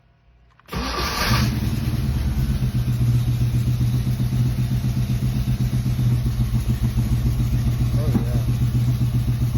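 A Foxbody Mustang V8 hot rod starts with a sharp catch, then settles into a loud, close, lumpy idle with a steady pulsing beat and occasional popping backfires throughout.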